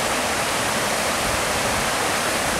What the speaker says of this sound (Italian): Questo qua è un fiume, si chiama Lenne, questo fiume qua.